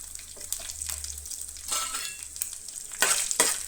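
Half an onion hitting hot oil in a pan, with a steady close sizzle that swells into louder bursts of frying toward the end, no voices.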